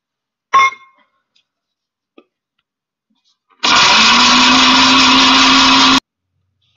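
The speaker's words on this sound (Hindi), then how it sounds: "अब अनारदाने को भी पीस लेंगे।" Mixer grinder pulverising dried pomegranate seeds into powder for a digestive churan: a loud, steady motor whine with harsh grinding runs for about two and a half seconds, after a brief clatter of the jar being set in place.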